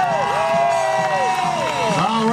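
A large crowd at a fairground BMX pro stunt show cheers and shouts in a loud, sustained roar with scattered clapping, as a voice speaks over it on a public address system.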